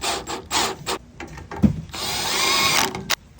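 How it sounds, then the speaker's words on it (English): A power drill drives screws into a door hinge and threshold bracket on a commercial storefront door with an offset pivot hinge, giving several short whirring bursts followed by one longer steady run, close and loud. "Let me go ahead and put the new screws in."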